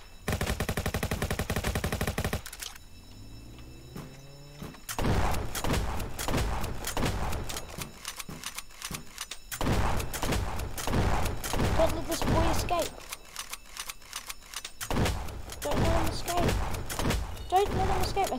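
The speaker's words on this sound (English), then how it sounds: "I will shoot that bastard." Rapid bursts of automatic gunfire from the Roblox game Jailbreak come loud and dense in several long stretches, broken by quieter gaps with game sounds.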